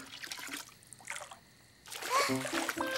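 Water splashing and trickling in a bubble bath in a cartoon, soft sloshes with a brief lull, then livelier splashing and bright musical tones near the end.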